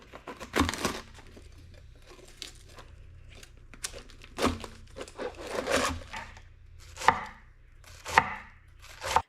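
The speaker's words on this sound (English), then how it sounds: "I'm going to cut this in half and then we're going to shred it into a thin slice" Knife shredding a halved head of cabbage into thin slices for sauerkraut, crisp chopping strokes in irregular bursts, close and fairly loud with no talk.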